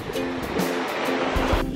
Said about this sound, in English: Just staring out at the ocean.